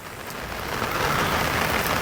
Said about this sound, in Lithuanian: Lauke lyja.